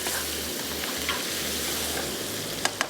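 Sliced tomatoes sizzle in a frying pan for Seyal Gosht, a steady near hiss with a low hum, ending in two short clinks.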